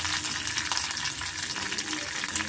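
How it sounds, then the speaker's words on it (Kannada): Curry leaves frying in hot oil in a pan give a loud, continuous hiss and crackle close by, with no talk over it. "ನಾನು ಸ್ವಲ್ಪ ಕರಿಬೇವು ನೋಡು ಸೇರಿಸ್ಕೊತಾ ಇದ್ದೀನಿ. ಅದನ್ನು ಸ್ವಲ್ಪ ನಾನು ಚೆನ್ನಾಗಿ ಫ್ರೈ ಮಾಡ್ಕೊತೀನಿ."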